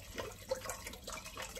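Veggie broth poured into a pot of split peas, a soft continuous splashing gush heard close and fairly quiet for under two seconds.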